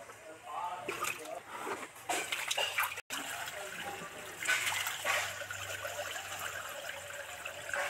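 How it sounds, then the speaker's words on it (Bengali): Water running and splashing as rohu fish pieces are rinsed and cleaned by hand for a Bengali fish curry, a steady close trickle and slosh throughout with a brief cut partway. "মাছগুলো এবার পরিষ্কার করে ধুয়ে নিই।"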